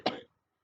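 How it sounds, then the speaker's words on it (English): A single short, dry cough from a person, close and fairly quiet, followed by silence. "I'm sorry, I'm also coughing a lot."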